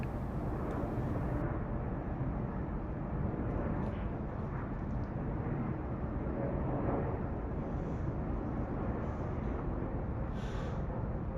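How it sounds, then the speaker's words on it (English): An airplane lands at San Diego airport beside the bay, a loud steady jet roar that fills the whole stretch without letup and carries no talk. "we even got to watch a plane land parallel to the bay"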